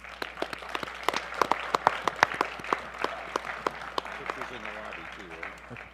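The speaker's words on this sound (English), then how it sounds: "So let's give a round of applause for all of ourselves here." An audience at a high school and collegiate esports award ceremony gives a round of applause, scattered sharp claps building and then fading while a voice speaks over the end.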